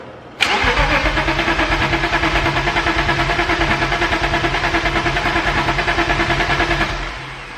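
A BMW E34 engine with no exhaust catalytic converters cranks over loudly and steadily after a sharp starter engagement, its rhythmic chugging pulses repeating for several seconds without catching, then winding down.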